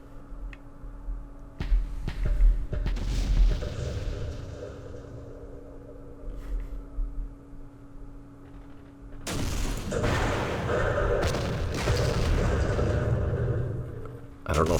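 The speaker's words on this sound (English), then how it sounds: "We're getting hit by mortars." Mortar rounds bursting in the Vietnam-war strategy game Campaign Series Vietnam, a string of deep booming impacts with rumbling tails, heavier and denser in the second half, played loud with no talk.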